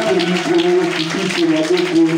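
Worshippers in a church fill the space with continuous clapping and loud cheering voices, a thick, unbroken roar of acclamation throughout.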